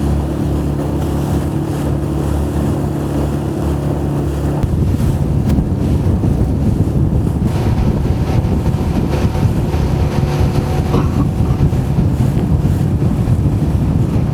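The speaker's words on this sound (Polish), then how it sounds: "bo idziemy pod wiatr. I pod fale jeszcze." Steady gusting wind roars across the microphone with the low rumble of water slapping against a sailing boat's hull, continuous throughout.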